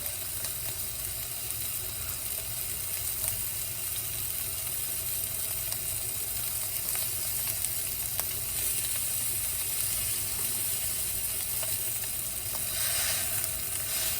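Steak searing in a hot pan makes a constant, close sizzling hiss that holds steady throughout, with no one talking.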